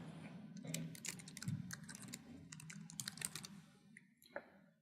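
Rapid clattering keystrokes on a computer keyboard, close and fairly quiet, with irregular bursts of taps and a few heavier key strikes, over a low steady background hum.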